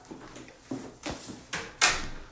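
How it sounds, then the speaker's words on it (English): A door is pushed shut indoors, probably at a cosmetic clinic, with a few soft knocks and handling thumps building to one sharper closing thud at the end. "let me close this door"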